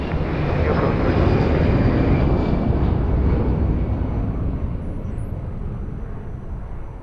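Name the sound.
airplane landing at Lisbon Airport runway 02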